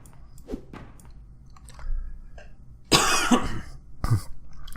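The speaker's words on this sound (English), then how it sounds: "Sorry for coughing" Coughing fits from a person playing Master Reboot, a harsh cluster of coughs near the mic after quieter mouth and throat noises, loud and close with no talk.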